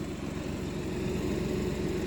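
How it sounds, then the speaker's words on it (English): A BMW 118i Sport from 2016 idles quietly and steadily, giving a low, even hum with no revving and no speech. "The engine is very quiet, as you can hear."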